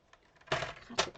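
A paper trimmer slicing through a sheet of craft paper: a short, close, crisp scrape comes first, then a second quick swish a moment later, in an otherwise quiet room.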